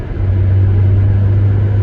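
A Rover 420GSi Tourer engine hums as a steady, loud low drone from inside the car at motorway speed, keen and pulling with little variation in pitch.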